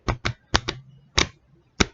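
Playing cards handled and shuffled at a table during a card magic demonstration: six crisp, close taps and snaps in uneven pairs and singles, with short quiet gaps between them.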